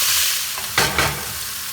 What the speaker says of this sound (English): so now we just stir fried it maybe for a minute on hot heat